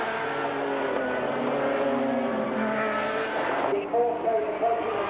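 Jaguar and Porsche sports prototypes lapping Brands Hatch in the 1987 Shell Gemini 1000 km race, their engines droning steadily at a distance, with the pitch sweeping and a shift in tone near the end.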